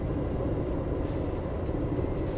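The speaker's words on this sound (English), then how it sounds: "That's the train." A passenger train running across Canada gives a steady, loud interior rumble and rattle of rolling rail cars, continuous throughout with no talking.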